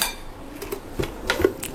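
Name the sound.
metal spoon clinking against espresso machine parts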